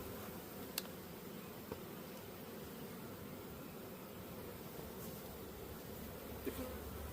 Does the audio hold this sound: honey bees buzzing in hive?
yes